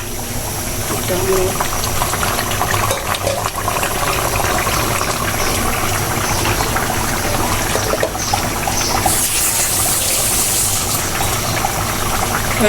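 Pangas fish curry simmering to a boil in a pot, a steady close bubbling and hissing that runs throughout with constant low rumble, occasional faint clatter.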